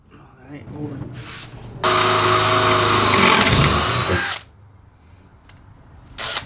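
A power drill boring a bolt hole during a DIY bus tiny-house conversion whines loudly for about two and a half seconds and then cuts off, with quiet handling noises before and after.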